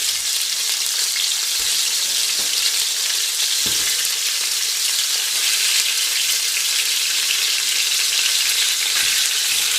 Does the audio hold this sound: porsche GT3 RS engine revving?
no